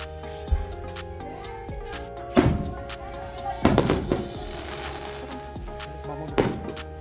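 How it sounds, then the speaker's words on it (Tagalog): Fireworks go off at a family birthday celebration in Lubao, with several separate booming bursts at irregular intervals that sound fairly distant, heard over a steady background hum. "Ayan, tignan may fireworks."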